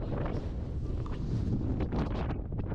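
Strong wind buffets the microphone on the freezing Haystacks summit in the Lake District at about -13°C, a continuous roaring gusty rush with a few sharper flurries, no voices.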